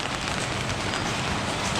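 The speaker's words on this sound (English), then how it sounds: "this rain is steady. It's not very strong, but if you didn't have an umbrella, you'd be screwed." Steady light rain falling on a street in Soi 4 Nana, a constant even hiss of drops on surfaces with no voices.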